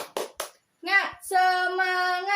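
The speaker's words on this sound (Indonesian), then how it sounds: "Kita tepuk semangat dulu ya, biar tetap semangat belajar hari ini." A primary school class does a rhythmic clapping chant, with a few sharp hand claps followed by a drawn-out, sung group call, close and lively in a classroom.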